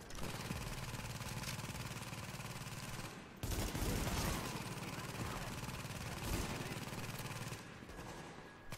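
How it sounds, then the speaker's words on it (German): Bursts of gunfire aimed at a car in the video game The Division, with dense rapid shots from 0 to about 3.4 s and again from 3.5 s onward, loud and continuous with short pauses. "kann ich durchs Auto durchschießen"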